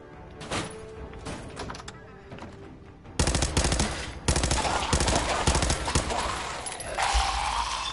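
Gunfire in Fallout 4, a fast volley of sharp shots that grows louder and denser partway through, mixed with other game noise and some talk.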